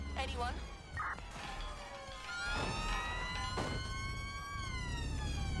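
A wailing ambulance siren in the Watch Dogs Legion video game, rising and falling continuously and loud, with engine and city noise beneath and a voice talking over it.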